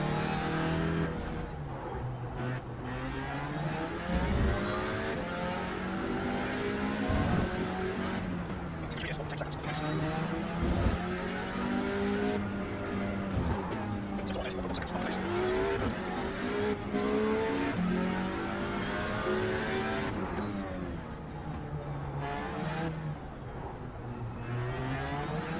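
A race car laps a track at speed, its engine rising and falling through repeated acceleration and braking, loud and continuous with occasional gear shifts, while people talk over the engine noise.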